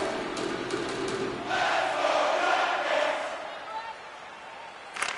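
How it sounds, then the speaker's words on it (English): Arena crowd in NHL 25 hockey during a tied game late in the period, a broad roar of cheering that swells in the middle and eases off, with a play-by-play voice speaking over it. "you can feel the energy in this crowd"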